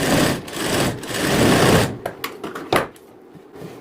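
A sewing machine stitches tucks into a blouse in a fast, loud continuous rattle for about two seconds, then stops, followed by a few clicks and handling sounds up close.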